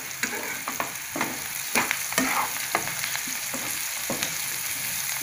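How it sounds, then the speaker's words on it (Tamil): Onions fry in hot oil in a pan for a raw banana fry, a close, steady sizzle broken by sharp spatula scrapes and stirring knocks. "வெங்காயம் வந்து நல்லா வணங்கட்டும்"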